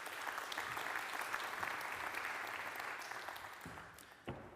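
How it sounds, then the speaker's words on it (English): Warm applause from a conference audience at a regulatory science panel, a dense, fairly quiet and distant wash of clapping that holds steady and then fades, ending with a couple of isolated knocks. "let's give Aldo from the FDA a very warm round of applause"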